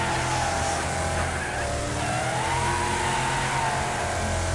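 Race cars roaring and skidding in the Wreckfest racing video game, a continuous loud engine drone with shifting revs and tire squeal throughout, no voices.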